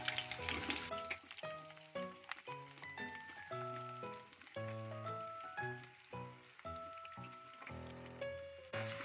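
Garlic cloves frying in oil for a coriander pickle, a faint sizzle under a string of pattering and clattering kitchen noises, with a louder burst near the start.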